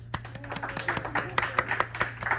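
Scattered, uneven clapping from a small audience at a concert, individual claps distinct and fairly faint over a steady low hum, with no dense roar building.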